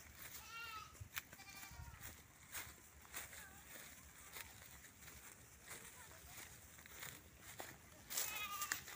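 A herd of goats bleats repeatedly as they are driven along in a rural Philippine province, faint scattered calls with sharp rustling and footstep clicks throughout and a louder cry near the end.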